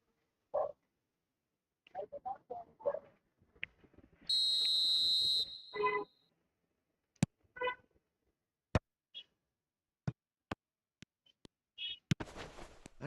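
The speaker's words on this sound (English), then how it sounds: "Whistle goes again." A referee's whistle in an eFootball 2025 match sounds as one sustained, piercing blast lasting under two seconds. Scattered short game sounds and clicks come before and after it.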